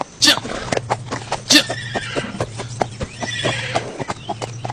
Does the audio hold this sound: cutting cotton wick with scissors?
no